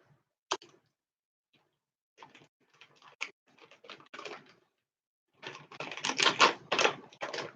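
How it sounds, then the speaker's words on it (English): Snack packages being taped up: a few quiet, scattered clicks and crinkles, then a louder burst of tape ripping and rustling near the end, with no talking. "I'm gonna tape these up"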